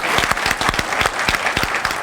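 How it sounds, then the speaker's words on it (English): A crowd at an awards ceremony applauds steadily, with close, crisp hand claps packed into a continuous round throughout. "So let's give them a round of applause and come on up."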